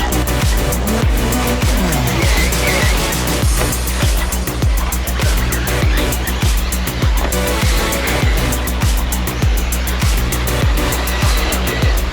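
Kyosho nitro RC cars racing on a track, high-pitched engine whine that rises and falls continuously as cars pass close by in quick succession, loud and busy throughout.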